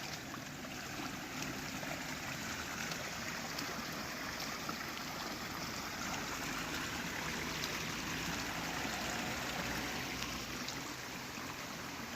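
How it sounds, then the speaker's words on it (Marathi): Monsoon rainwater runs everywhere across Konkan countryside as a continuous, even wash of flowing and trickling water, fairly faint, with no voices. "पाणी बघा सगळीकडे पाणीच पाणी झालं आहे"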